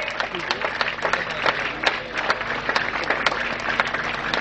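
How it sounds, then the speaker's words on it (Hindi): Audience at a scholarship distribution ceremony for a national association of the blind applauds steadily as guests take the stage, dense sustained clapping with a faint voice or crowd murmur underneath. "जोरदार तालियों के साथ उनका अभिनंदन होता रहे"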